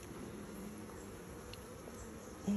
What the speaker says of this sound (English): The colony is queen right. They're behaving like they're queen right. Very calm. Nice low hum.